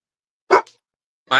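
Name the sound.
dog barking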